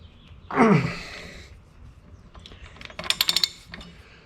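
A wrench cranks down a bolt on an International Harvester 1066 tractor speed transmission: a loud rasping stroke near the start, then a quick burst of sharp ratchet clicks later, close up with no talk.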